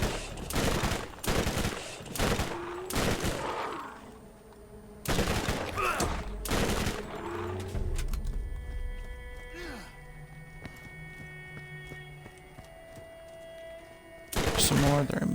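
Gunfire in the video game Borderlands: loud bursts of rapid shots in two clusters, a lull with quieter game sounds and tones, then another burst at the end.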